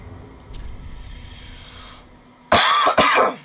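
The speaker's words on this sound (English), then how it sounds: "I'm coughing up a storm." Quiet background noise gives way to two harsh, loud coughs in quick succession, close to the listener.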